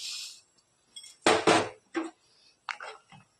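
Roasted vermicelli tipped into a pot of sweetened milk for payasam, giving a few separate clinks and clatters of a utensil against the pot, close and moderately loud, with quiet gaps between and no talk.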